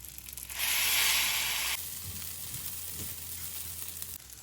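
Vermicelli sizzles and fries in a pan while being stirred for Turkish-style rice pilaf, with a loud, steady hiss that drops abruptly partway through, followed by quieter frying and soft stirring scrapes.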